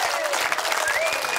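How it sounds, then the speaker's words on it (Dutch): Audience at a nightclub television show gives a short burst of applause, dense and close, with faint whistles or cheers rising through the clapping. "Nog een keer een applaus."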